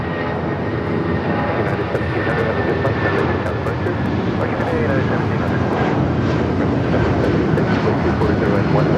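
A large airliner going around at Los Angeles airport produces a steady, loud engine roar that fills the whole stretch.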